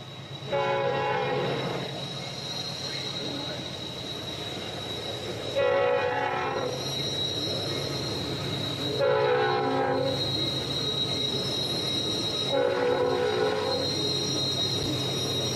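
A train passes on the railroad at Horseshoe Curve, with a steady rumble of wheels and cars and a loud horn sounding in repeated long blasts, alone without talk.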